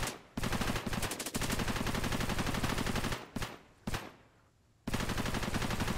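Rapid bursts of automatic gunfire in Cepheus Protocol, an open-world zombie real-time strategy game, rattle loudly and nearly continuously, broken by a few short pauses and one longer gap before the firing resumes.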